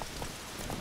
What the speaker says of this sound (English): Why is it raining? It never rains in Toussaint.